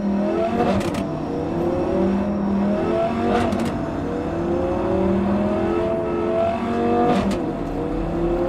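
Car engine revving in a video game played on Ubuntu 26.04 LTS, loud and continuous with repeated rising and falling pitch sweeps as the engine climbs through gears, alone without speech.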